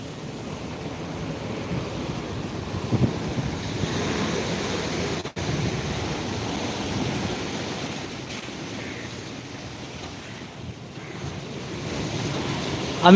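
Rough sea surf roars steadily at Digha beach, a dense, continuous wash of breaking waves mixed with wind buffeting the microphone, loud and unbroken throughout.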